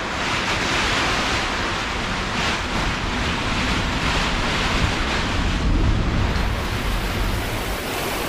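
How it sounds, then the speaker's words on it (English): Strong wind roars and buffets the microphone continuously, with surf-like rushing noise swelling in gusts and no voices. "We are still getting wind gusts"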